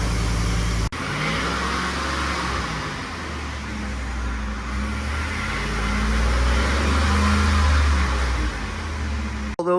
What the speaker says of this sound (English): this is I guess a cold start